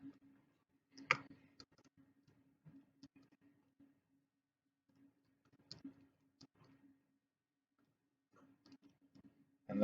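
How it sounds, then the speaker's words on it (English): Calculator buttons pressed while entering numbers for a square root: faint, close plastic clicks in short scattered clusters with quiet gaps between them, and no talking. "Now we're going to type all of this into our calculators and take the square root of it."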